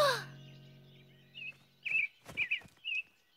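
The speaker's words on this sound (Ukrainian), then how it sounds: "Це вільшанка." A cartoon European robin calls in a quiet spring park: four short, bright chirps spaced about half a second apart, each clear and alone, following a brief fading tone at the start.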